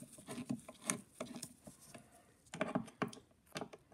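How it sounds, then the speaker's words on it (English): Screws on a Victor phonograph motor being loosened one after another, heard as small, close metallic clicks and scrapes in uneven bursts, quiet and without talk. "So you're unscrewing each one a little bit."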